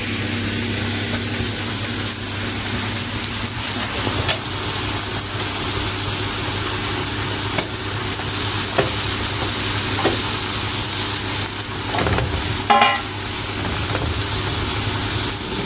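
Steady sizzling of peppers frying in a pan for a minced meat sauté, continuous and close, with occasional stirring scrapes and a faint low hum underneath.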